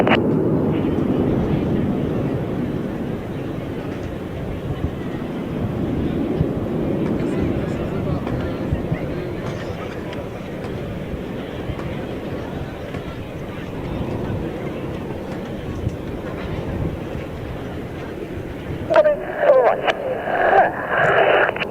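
Red Arrows jets passing over an air display at over 600 km/h, a broad sustained roar rumbling steadily throughout under a commentator's voice over the public address.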